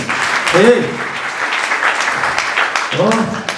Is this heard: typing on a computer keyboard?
no